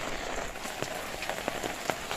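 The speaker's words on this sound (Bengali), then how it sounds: "প্রচুর বৃষ্টি হচ্ছে" Heavy rain pours onto a tiled roof and mud-walled village house, a steady dense hiss with scattered louder drips and splashes standing out close by throughout.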